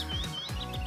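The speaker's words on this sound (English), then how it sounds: "Can you hear the birds singing?" Birds sing in a green meadow, quick chirps and rising whistled notes repeating over less than a second, fairly faint and a little distant, with no talk.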